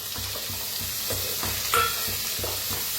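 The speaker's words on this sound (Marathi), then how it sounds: "आता त्याच्यात टाकूया टमाटर।" Chopped tomatoes go into a pan of browned onions for a green-masala egg curry, sizzling loudly and steadily while a spatula scrapes and stirs in a regular rhythm.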